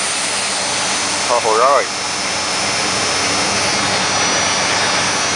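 A 1993 Dodge Dakota with a 3.9L engine, fresh fuel injectors fitted, starts and settles into a steady, loud idle that runs throughout, with a brief spoken word near the start.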